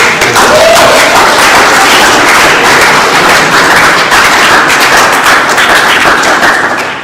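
Dense, loud applause fills a conference hall, steady clapping from a large audience that holds for several seconds before easing slightly at the end.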